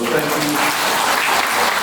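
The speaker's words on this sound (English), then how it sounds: "we all owe the Palm Coast Realtor Association a round of applause" Audience at a realtor association housing symposium breaking into applause, a thick, continuous roar of clapping from many people throughout the short moment.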